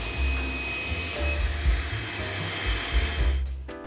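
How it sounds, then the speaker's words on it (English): Table saw ripping the remaining edge of a board run against the fence: a steady, close, high motor whine with a low rumbling hum underneath, holding for a few seconds before tapering off. "we run the remaining edge up against the fence back through the table saw again"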